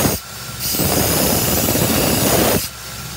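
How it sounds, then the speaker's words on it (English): Grinder reshaping the bevel of a fire axe head, a loud continuous hissing grind lasting about two seconds, set between brief quieter pauses at the start and end. "I am going to grind it and fix the bevel first"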